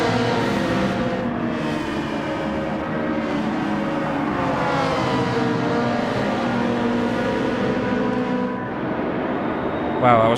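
Race car engines scream and rise in pitch through gear changes in Gran Turismo 7 at Yas Marina, continuous and loud, with a person talking over the top for much of the stretch.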